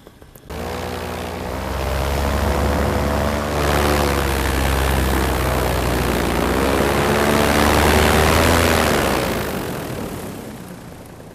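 A paramotor engine on a powered paraglider in high-wind soaring flight starts abruptly and holds a loud, steady propeller drone close by. Its pitch rises and falls gently before fading near the end.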